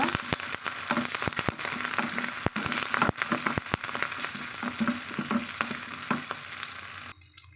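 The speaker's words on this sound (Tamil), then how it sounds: "சீரகம் போட்டு ஒரு ரெண்டு மூணு ஆறுக்கு கருவேப்பிலையில் வந்து சேர்த்துக்கலாங்க ஃப்ரெஷ்ஷாக நம்ம அதையும் சேர்த்து வதக்கலாங்க" Cumin seeds and fresh curry leaves sautéing in hot oil in a pan, a dense crackling sizzle with sharp pops and occasional stirring scrapes, close and loud, cutting off abruptly near the end.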